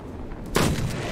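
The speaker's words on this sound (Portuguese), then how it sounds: "o cara acertou o próprio aliado com o tiro" A single gunshot in Hard West 2, a turn-based Wild West tactics game, cracks out sharply after a quiet lead-in and leaves a short, dense rumbling tail.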